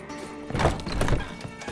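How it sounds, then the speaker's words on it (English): A horse in The Witcher 3 lets out a short agitated whinny and snort, close and fairly loud, with a hoof knock in a stable. "Gotta calm all the horses before they wake the guards."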